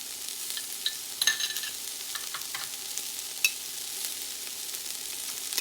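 Vegetables stir-frying for mixed fried rice as Chinese sauce goes into the pan, a steady close sizzle with scattered clinks and scrapes of a utensil against the pan and a few sharper knocks.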